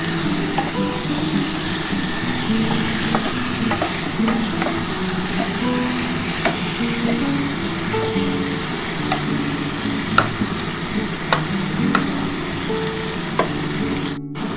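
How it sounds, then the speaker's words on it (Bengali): Spice masala for an aar or rita fish kalia is stir-fried in oil, producing a loud, continuous close sizzle broken by repeated spoon scrapes and taps against the pan. "ভালো করে কষিয়ে নিই বন্ধুরা"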